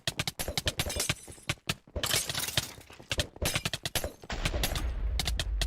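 Rapid bursts of video game gunfire crack out during a competitive draft tournament match, dense volleys and single shots overlapping in quick, loud succession with brief gaps between flurries.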